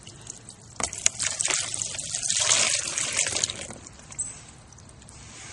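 Running water from a tap rinses Wii console parts, a hissing, splashing stream that swells and fades with a few sharp clinks, fairly close.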